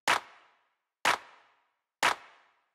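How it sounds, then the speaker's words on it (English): A soft hand-clap drum sample for house music hits three times at an even one-second interval, each a sharp snappy burst with a short decaying tail, isolated and dry. "the next thing I have here is the clap"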